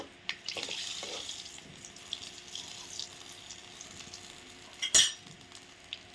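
Cloves, black pepper and dried red chillies are dropped into hot oil and crackle in a faint, steady sizzle, with soft clinks and one sharper spattering burst near the end.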